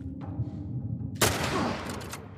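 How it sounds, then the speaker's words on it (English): A single sharp gunshot in The Last of Us Part I breaks a quiet stretch, loud and close, then fades through a brief rumbling tail. "I shot him in the head."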